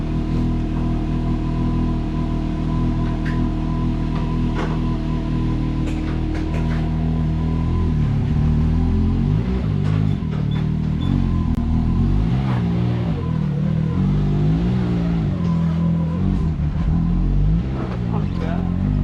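A Can-Am X3 side-by-side with a spooled front differential drives and turns, its engine humming steadily with shifting load and some revving, while voices talk over it throughout.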